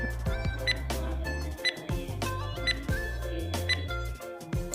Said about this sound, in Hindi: टाइमर शुरू होता है अब